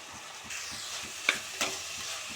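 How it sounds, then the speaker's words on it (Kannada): Okra frying with spices in a hot pan, a steady soft sizzle under repeated stirring scrapes, with two sharper clanks of the spoon against the pan. "ಬೆಂಡೆಕಾಯಿ ಹಾಕಿ ಎಲ್ಲ ಒಂದು ಫ್ರೈ"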